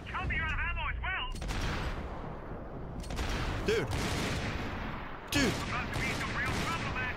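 Heavy .50-caliber gunfire in Max Payne 3: three booming shots spaced a couple of seconds apart, each with a loud crack and rumbling decay, over a constant bed of game noise, with a short spoken word.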